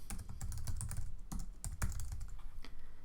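Close, steady typing on a computer keyboard as an email address is entered, a quick run of key clicks lasting a few seconds with no talk.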